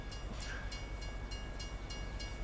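A train in Farming Simulator 25 runs continuously on its track, giving a low steady rumble with faint regular clicks and a thin high tone layered on top, with no voices.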